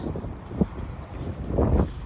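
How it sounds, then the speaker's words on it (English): Wind rumbles against the microphone in uneven gusts on a quiet city street in Frankfurt, with a stronger surge near the end and faint outdoor background noise. "It's a windy day."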